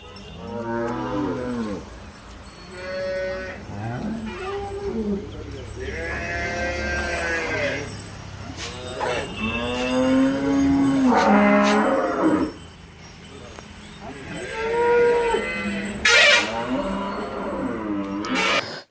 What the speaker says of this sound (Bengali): গরুটা একদম পিওর হলিস্টিয়ান জাতের গরু